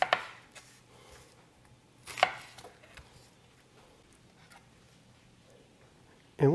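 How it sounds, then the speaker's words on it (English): Carrots are roughly chopped with a knife on a board for beef bone broth, a few sharp separate knocks spaced seconds apart with quiet gaps between and a louder cut at the end. "you just want to give them a very rough chop"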